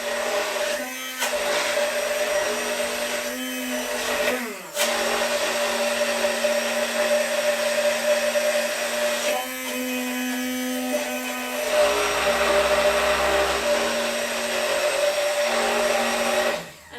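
A high-speed blender whirs steadily through a thick vegan Easter egg filling, its loud motor droning with brief pauses and pitch shifts as the load changes, heard alone without talk.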